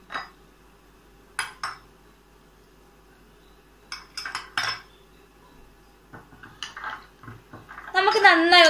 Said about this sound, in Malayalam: നമുക്ക് നന്നായി ഒന്ന് മിക്സ് ചെയ്ത് കൊടുക്കാം.